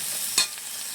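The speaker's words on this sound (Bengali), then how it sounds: "একটু আলুটা ভেজে নিয়ে দিয়ে দিচ্ছি ঝিঙে। ঝিঙেটা দিয়ে এভাবে একটু নেড়ে চেড়ে সব মশলার সাথে মিশিয়ে নিচ্ছি।" Ridge gourd and potato frying with spices in a pan, a faint background sizzle broken by a single quick scrape of a stirring utensil.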